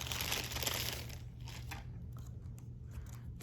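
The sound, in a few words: new laptop keyboard taken out of a plastic bag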